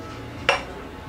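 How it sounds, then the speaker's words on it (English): A spoon gives a single quick clink against a glass while stirring hot whiskey with orange and lemon studded with cloves, one short bright tap over a quiet background. "One more quick stir."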